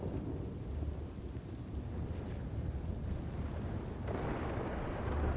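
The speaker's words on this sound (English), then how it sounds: "the thunder is so loud" Thunder rumbling with rain in the RedM western roleplay game, a loud continuous low roll that swells toward the end over steady rainfall hiss, with no talking.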